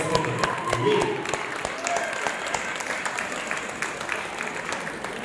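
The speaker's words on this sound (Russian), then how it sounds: "А зрители аплодируем, аплодируем, аплодируем нашим финалистам" An audience applauds finalists at a Russian swing dance grand prix, with even, sustained clapping spreading across a hall while faint voices sit underneath.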